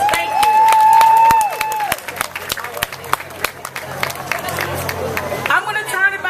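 A festival crowd applauds its sponsors, scattered sharp claps and cheering rising after a sustained tone fades, with voices murmuring through the clapping.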